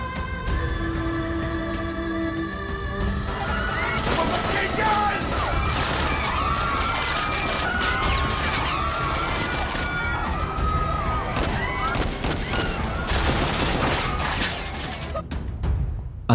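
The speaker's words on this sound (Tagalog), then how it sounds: "nagpapalitan ng putok sa lugar ng Quiapo" Rapid bursts of gunfire crackle continuously in a TV drama scene, dense and loud, with overlapping volleys suggesting an exchange of shots under a dramatic mix.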